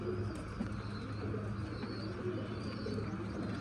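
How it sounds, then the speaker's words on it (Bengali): Caged fancy pigeons, Teddy 128 crosses, coo in soft, low, repeated rolls close at hand, against a constant faint background hiss with no one speaking. "কবুতরগুলোর ভয় পাচ্ছে, তাও স্ট্যান্ডিংগুলো দেখেন"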